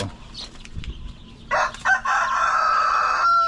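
Roosters in a backyard free-range chicken farm crow loudly and close by, one long drawn-out call following short bursts, with soft clucking and rustling before it.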